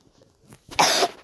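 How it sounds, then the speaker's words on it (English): A single sharp cough bursts out loud and close after a quiet stretch of faint breathy noise, short and forceful, with no talking around it. "coughing makes me lose."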